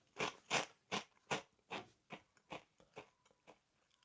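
Crunchy Gorae-bap fish-shaped snack being bitten and chewed close up, about a dozen crisp crackling crunches in a steady rhythm that grow gradually softer, with no talking.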